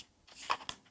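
Quilting fabric being cut during piecing, a single quick crunchy snip and slicing sound, close and brief, with no talking.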